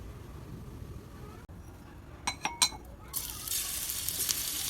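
Ginger garlic paste sizzles in hot oil in a pan for mutton tripe curry, a steady close frying hiss that swells loudly in the last second and a half, with a few light clinks of a spoon against the pan midway.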